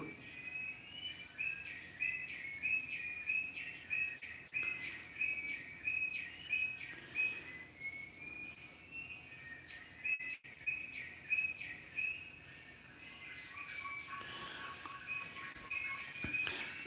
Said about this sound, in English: The noises you can hear in the background is